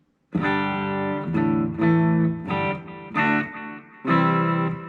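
Clean electric guitar chords through a Positive Grid Spark amp with chorus, reverb and a little delay, strummed in a slow sequence, each ringing with a shimmering, spacious wash before the next.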